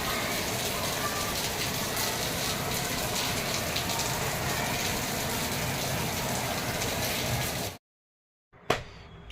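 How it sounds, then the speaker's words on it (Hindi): Continuous heavy rain falls steadily in a hillside village near Rishikesh, a loud dense wash that runs for most of the stretch before cutting off abruptly into silence. "अभी तो लगातार बारिश पड़ती जा रही है।"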